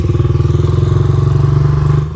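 A dirt bike engine runs with a fast, even, pulsing chug right up close, then drops off abruptly at the end.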